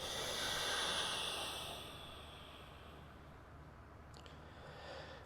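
A person breathes out slowly and softly during a yoga cat-cow exercise, a quiet breathy exhale close by, fading over a few seconds with faint room noise behind it.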